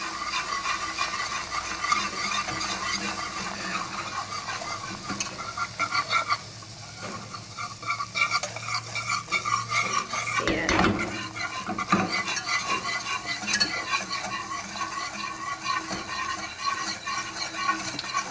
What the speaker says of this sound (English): We're just gonna kind of whisk this for about 1 minute.